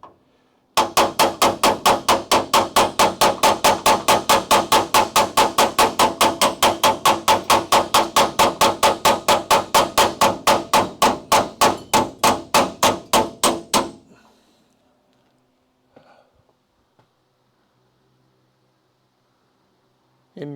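A hammer strikes a small handheld anvil during a Crew Cab Charger restoration, giving a long, steady, fast run of sharp, loud metallic clangs that stops abruptly, followed by a few faint knocks in near silence.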